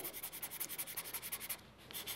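Foam-tipped drawing tool rolled on its edge over charcoal on paper, giving a soft, rhythmic rubbing scrape that repeats about a dozen times, close and faint, then pauses briefly before resuming.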